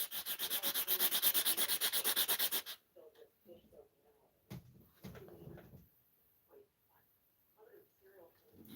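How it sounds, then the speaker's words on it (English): Fine grit sandpaper rubbed briskly back and forth over a wood carving of a lighthouse in rapid, even strokes for a few seconds, close and loud, then it stops and quiet speech and small handling noises follow. "You need some real fine grit sandpaper"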